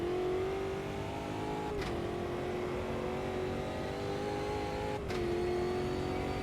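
A stock car engine in the racing game Automobilista 2 drones loudly and steadily, with two quick dips at gear shifts before climbing again as it revs on.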